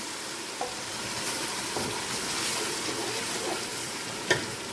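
A steady, close sizzle of tomato, garlic and ginger paste frying in a hot pan, with a few soft stirring scrapes and one sharper clink near the end.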